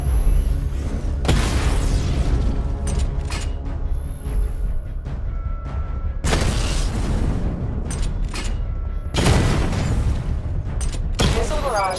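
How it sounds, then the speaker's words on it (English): Missile barrage explosions destroying targets in Batman Arkham Knight, with several heavy booming blasts and rumbling bursts over continuous mechanical game noise and rolling debris. "Destroy targets to charge up weapon energy and activate missile barrage."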